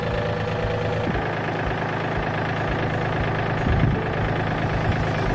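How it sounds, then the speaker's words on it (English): Tractor engine idling with a steady low rumble and knocking pulse while stretching a fence line on a homestead, continuous and fairly close, with no talk. "this tractor is coming so handy."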